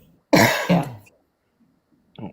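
A sharp, close cough burst followed quickly by a second, then a brief pause and one shorter cough near the end, each loud against near silence.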